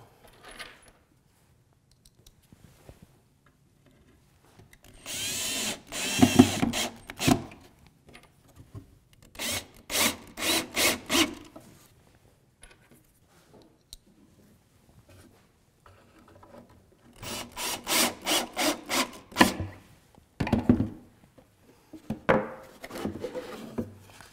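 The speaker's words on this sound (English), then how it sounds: "I'll put some pocket screws in from the bottom" Pocket screws are driven up from below into a wooden fireplace bookcase shelf, in two main bursts of rapid buzzing drill runs with short pauses between them, fairly close, with scattered knocks and handling of the wood in between.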